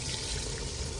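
Water poured into a cooking pot of aloo gosht (mutton and potato curry) in a village kitchen, a brief steady splashing rush that stays loud throughout.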